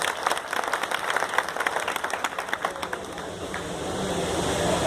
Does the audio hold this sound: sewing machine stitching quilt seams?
no